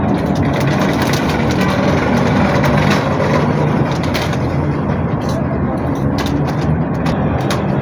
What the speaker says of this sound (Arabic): صوت سيارات